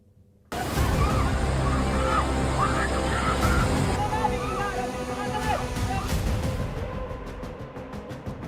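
Monsoon floodwater rushing and churning in Himachal Pradesh, a loud, continuous roar and slosh that holds steady throughout with a broad, turbulent wash.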